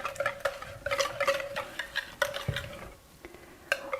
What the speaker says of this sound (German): Mit dem Schneebesen einrühren, bis es sich vollständig gelöst hat.